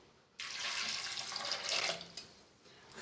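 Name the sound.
water poured into pressure cooker with chickpeas and potatoes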